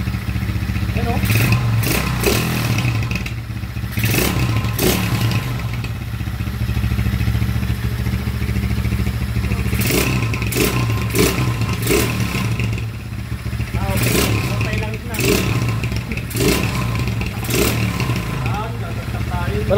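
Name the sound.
Euro 150 motorcycle engine with 200cc conversion revving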